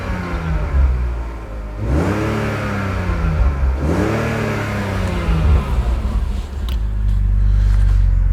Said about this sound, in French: on va faire écouter le petit bruit moteur,